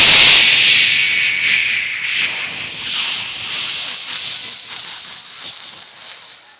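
A voice imitates a pressure cooker letting off a long, sputtering hiss that starts loud, then slowly fades and crackles unevenly, close up with no talking.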